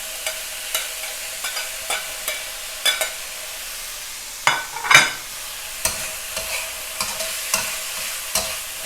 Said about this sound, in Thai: ผัดให้เข้ากันค่ะ